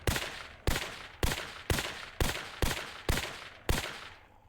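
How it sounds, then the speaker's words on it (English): Gunfire in the zombie survival game Terminus: Last Escape, a volley of eight evenly spaced, loud, sharp shots, each ringing out briefly before the next, with no talking. "And then they should do another volley of shooting to take out the rest."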